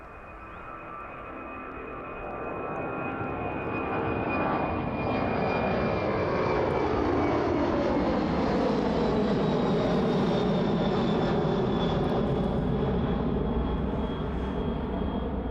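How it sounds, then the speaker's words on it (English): Aircraft engines spool up at East Midlands airport, a loud sustained roar with rising whine tones swelling over the first few seconds and then holding steady and close as the plane passes near overhead. "You can just hear those engines spooling up now"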